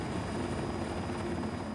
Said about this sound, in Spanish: el helicóptero comenzó a girar fuera de control y se desplomó hacia la tierra